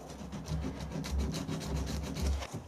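Body filler coating a pattern for bronze casting is sanded smooth by hand, a series of close, rhythmic rasping strokes at a steady back-and-forth pace, with no talking.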